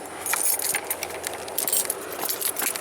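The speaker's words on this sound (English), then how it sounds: "I'm gonna grab the keys here" A bunch of car keys jingles and clinks up close in several short bursts, with bright metallic rattling and no speech.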